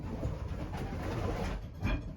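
Pigeons coo softly inside a racing pigeon loft, low murmuring calls over a steady background rumble, with a slightly louder coo near the end.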